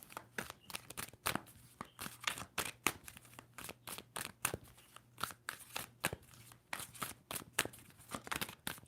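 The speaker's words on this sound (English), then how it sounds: "Two more shuffles for Virgo." A deck of tarot cards is shuffled by hand in rapid, repeated riffles, giving a steady run of crisp papery snaps and flutters close to the listener, with no voices.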